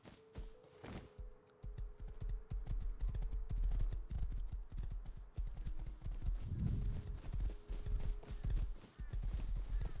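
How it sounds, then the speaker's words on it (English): Horse hooves clip-clop steadily and close by in the survival video game Rust, a brisk continuous rhythm that runs throughout, with someone talking now and then over it. "there's another horse here"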